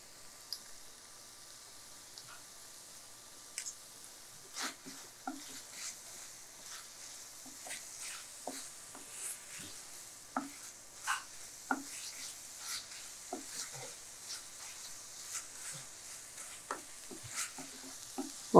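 A paneer sweet mixture stirred in ghee in a pan, with soft sizzling and irregular scraping taps of the spoon, close and quiet, with no talk.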